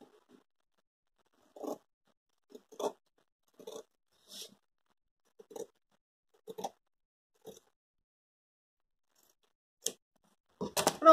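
Scissors cutting fabric for a dish towel, giving a series of separate crisp snips at uneven intervals, close and clear over near silence, ending in a quicker cluster of cuts.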